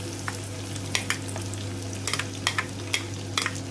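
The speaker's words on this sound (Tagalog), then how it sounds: "Una natin ilalagay ating sibuyas guys" Onions frying in a pan for pancit bihon crackle lightly over a steady low hum, with scattered spatula taps and scrapes at an uneven pace.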